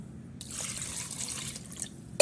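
Water poured over freshly churned homemade butter to wash it, a steady splashing trickle that starts abruptly after a brief quiet moment and runs on alone at moderate volume with no talking.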